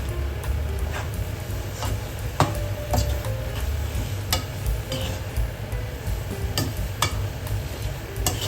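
Prawns are stirred by hand into a biryani marinade of lemon juice, curd and mint leaves, producing close, continuous wet squelching with frequent sharp clinks and taps of a utensil against the bowl, and no speech.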